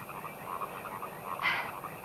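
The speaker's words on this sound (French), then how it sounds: "Ces grenouilles me rendent folle," Frogs croak at night in a rapid rhythmic pulsing chorus, steady and moderately close, with a brief brighter call rising near the end.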